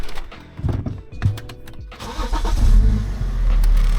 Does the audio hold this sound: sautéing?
no